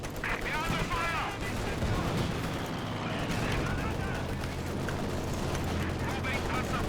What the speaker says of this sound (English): We are under fire!